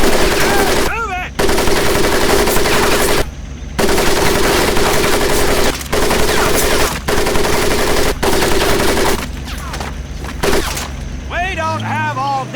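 Machine gun fire in Medal of Honor Pacific Assault boot camp, loud sustained bursts broken by short pauses, with a drill instructor shouting over the gunfire.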